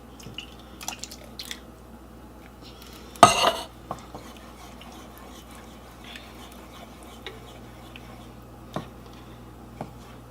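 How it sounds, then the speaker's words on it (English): A spoon stirs tomato soup in a pot of sweated vegetables, mostly quiet with one sharp metallic clank and scrape, then scattered light taps and clicks. "Tomato soup going in. Stir it around."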